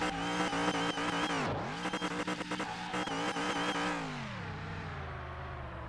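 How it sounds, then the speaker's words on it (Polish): A hot rod engine in the Car Mechanic Simulator 2021 game revs loudly and continuously, climbing in pitch, dropping sharply at shifts with tire squeal, then settling into a lower, fading drone. "Potężny samochód, wrócimy nim do garażu"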